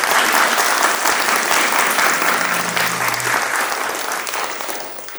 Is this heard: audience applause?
yes